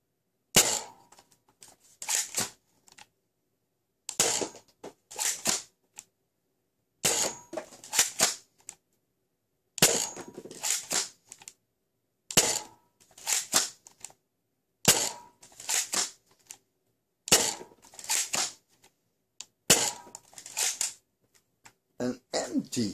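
A ZWQ S200s Viper dart blaster fires darts in repeated bursts of sharp snapping shots and mechanical clacks, separated by short pauses, loud and close.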